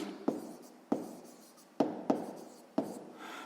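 Pen writing on paper while a sixth-grade maths exercise on a circle's radius is worked out: five sharp, separate strokes or taps at irregular intervals, each fading into soft scratching, close and fairly quiet, with no talking.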